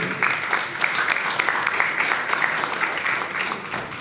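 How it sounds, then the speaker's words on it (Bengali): An audience claps at an awareness event run by a mobile phone dealers' welfare association as a guest is welcomed, a dense, steady round of applause from a hall crowd. "একটু জোরে হাততালি দেবেন সবাই মিলে"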